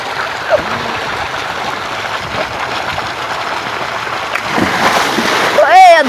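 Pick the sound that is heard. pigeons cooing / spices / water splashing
water splashing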